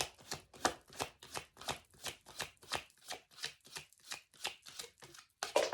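Tarot cards being shuffled, a regular series of about a dozen crisp riffling slaps close by, evenly spaced, with a louder handling rustle at the very end.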